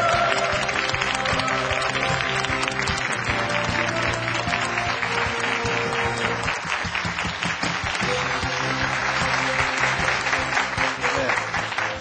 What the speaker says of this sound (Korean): 여러분, 강창희 부회장님을 뜨거운 박수로 맞이해 주십시오